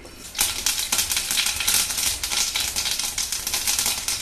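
Mustard seeds popping in hot coconut oil in a kadai, a dense, loud crackle of sharp irregular pops spread over a steady sizzle, heard close up with no talking.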